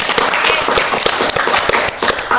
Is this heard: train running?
no